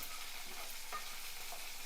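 Diced tomato and cucumber fry in well-heated oil for a chutney, giving a steady close sizzle with faint stirring scrapes throughout.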